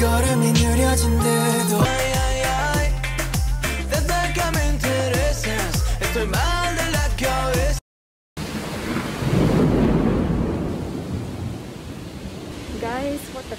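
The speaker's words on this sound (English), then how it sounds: "the rain damn heavy, bro. It's like flooding everywhere." Heavy rain pours down in a steady, loud, broadband roar with low rumbling, enough to cause flooding everywhere. It follows a stretch of music and a brief silence.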